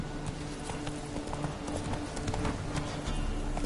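Horse hooves of Roach in Witcher 3 clip-clop in a steady walking rhythm, close and moderately loud over a constant outdoor ambience, with no talking.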